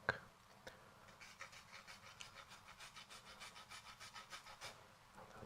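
A garlic clove is grated on a microplane grater in a kitchen, producing soft close rasping strokes in a quick even rhythm after an initial tap.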